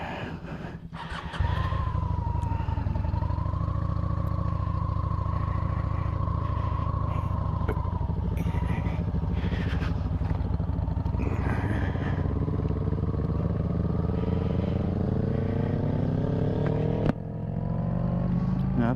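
A 2003 Suzuki SV650S sport bike engine runs steadily and loudly close by, its rising and falling tone hinting at revving, with continuous mechanical clatter for most of the stretch.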